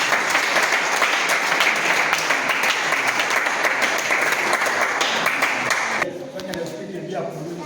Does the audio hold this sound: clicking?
no